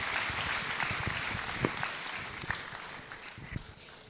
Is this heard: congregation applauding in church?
yes